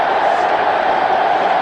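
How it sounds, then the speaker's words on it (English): A cricket crowd roars as Rahul Dravid reaches his one-day hundred against the West Indies, a dense, loud, sustained cheer that fills the whole moment without a break. "Crowd on their feet, and so they should be."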